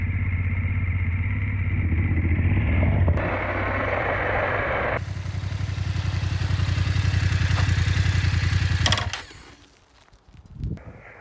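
A BMW F850 GS motorcycle engine runs on a test ride, droning steadily with shifts in pitch as the revs change, then dropping away to a quieter idle near the end.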